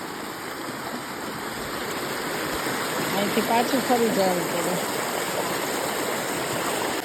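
Steady broadband rush of a waterfall in summer fills the whole clip, loud and close, with a person speaking over it partway through.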